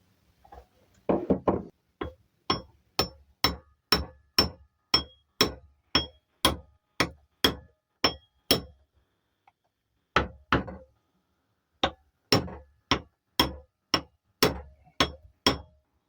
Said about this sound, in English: So I'm just chiseling around.